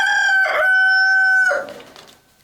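A rooster crows loudly and close by on a farm in Sweden, one long drawn-out cock-a-doodle-doo that fades away at the end.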